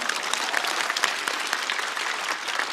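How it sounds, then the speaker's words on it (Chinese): A studio audience at a comedy roast show applauds warmly, a steady patter of many hands clapping at moderate loudness for a few seconds with no pause. "掌声鼓励一下。"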